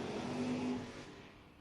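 A drag racing car at a drag strip loses traction off the starting line during a Door Wars event, its engine roaring loud and steady, then easing off toward the end.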